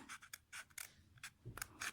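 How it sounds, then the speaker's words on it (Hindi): Scissors snip through paper cut into 16 pieces for a circle-area demonstration, making repeated crisp, close cuts at an uneven rhythm with no voices. "इसको हम कैंची से काट लेंगे"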